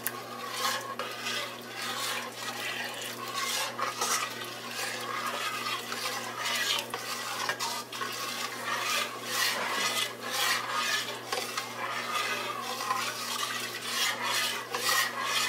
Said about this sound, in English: You want to keep giving it a good stir.